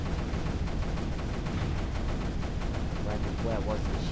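Cannons fire in a video game as a dense, continuous barrage of booming blasts, a loud rumbling volley that never lets up, with game sound effects layered over it.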